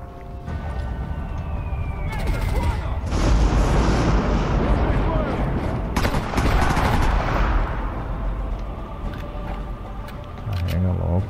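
Turret machine gun fire in the shooter game Sniper Elite V2 Remastered, loud sustained bursts of automatic gunfire mixed with blasts and rumbling combat noise, while voices talk over the action.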